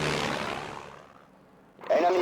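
A World War I-era bomber drones in the flight game Ace Patrol, a loud engine roar that fades away over about a second before a fresh burst of engine sound cuts back in.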